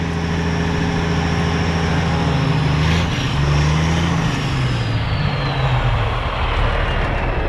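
Gas Uni Mule utility truck engine revving hard under heavy load, tractor-pulling style on road tires, a loud sustained drone that dips and rises in pitch as the throttle is held open, close and continuous throughout.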